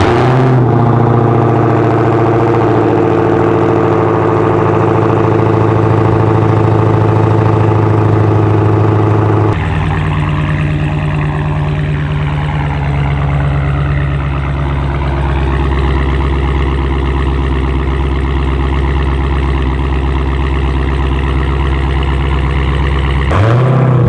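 A stock Dodge Hellcat with a supercharged V8, cold-started. It catches abruptly and settles into a loud, steady, high idle, then drops into a deeper, rumbling idle about halfway through.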